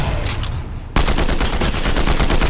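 Rapid gunfire in a Fortnite match, a dense rattling burst that kicks in abruptly partway through and keeps hammering close and loud to the end, with a softer stretch of firing before it.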